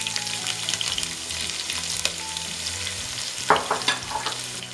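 Onions frying in a pan for ginger chicken, a continuous moderate sizzle with a few light utensil clicks and a brief stirring scrape near the end.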